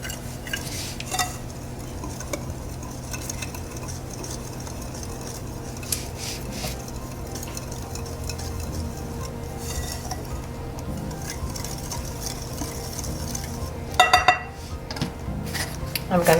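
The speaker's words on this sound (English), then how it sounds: "In goes our sugar and our salt, and just whisk everything together." Dry sugar, salt and flour whisked together in a mixing bowl for Jamaican hardo bread, a steady soft scraping and clinking of the whisk against the bowl under a low room hum, with a sharper clatter near the end.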